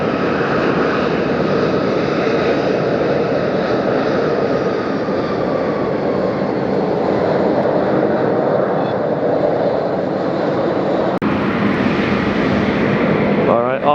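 CFM-engined Airbus A320, formerly flown by Virgin America, on a crosswind landing in windy Las Vegas, a steady, loud jet roar with a faint whine, continuous and fairly close.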